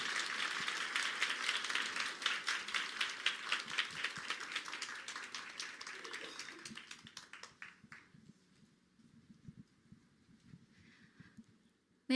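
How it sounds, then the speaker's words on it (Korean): An audience at a Korean story-sharing event claps for a speaker being called to the stage, a dense, lively clapping that thins and fades after about eight seconds into scattered taps and near silence. "큰 박수 부탁드리겠습니다."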